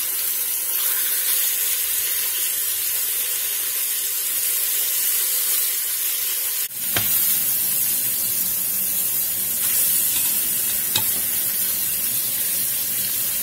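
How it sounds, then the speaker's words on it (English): Pork shoulder pieces searing in an Instant Pot, a constant hissing sizzle that jumps louder midway as meat is moved, with a few sharp clicks after, no voices. "We're just going to let these sear a few minutes on each side"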